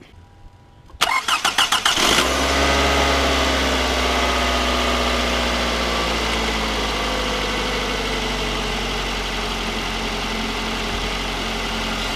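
After a quiet moment, a 2004 Toyota Camry's 2AZ-FE engine, newly swapped in, cranks in a quick burst of chugs, catches, and settles into a loud, steady idle hum.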